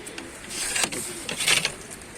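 Pigeons of a Tanta loft, including Pakistani and Shaalbaz breeds, take off together outdoors at sunrise: a rush of wingbeats with soft calls, moderately loud and close, with no talking.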